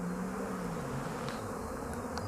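Honeybees hum around hive 17 in an apiary, a soft, continuous buzzing drone with a few passing tones and no voices.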